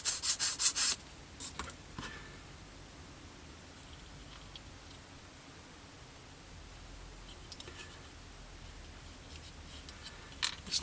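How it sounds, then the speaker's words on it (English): A plastic Airfix 1/72 Jet Provost model part has its rear surface sanded, giving soft, steady rubbing and scraping close by. A few sharper scuffs and handling noises stand out at the start and near the end. "It's wanting to push out slightly there, so I might just sand this rear surface down a little bit."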